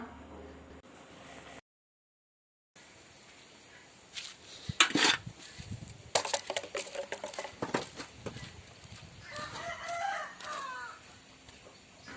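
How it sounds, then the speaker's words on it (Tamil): Backyard chickens peck at broken coconut pieces, with a rooster crowing and hens clucking close by in bursts over about twelve seconds, after a brief gap of silence near the start. "பாருங்க எங்கள் கோழி எவ்வளோ அழகாக சாப்பிடுதுன்னு காட்டுறேன்"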